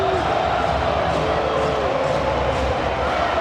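A dense, steady roar from a packed stadium crowd of nearly 50,000 at a Miami Hurricanes college football season opener against Bethune-Cookman, a continuous wash of noise with no pauses.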